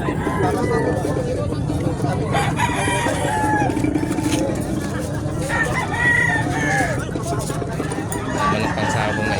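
Gamecocks crow over and over at a livestock market in San Carlos, Pangasinan, their calls overlapping amid steady crowd babble, clucking and nearby traffic, while people talk throughout.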